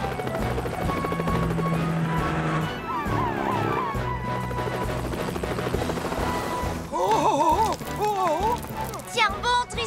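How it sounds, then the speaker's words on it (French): A helicopter's rotor thrum runs through a busy Fireman Sam cartoon scene, mixed with music and voices, with sharper bursts of activity near the end. "Elvis, rejoins Tom et prenez l'hélicoptère."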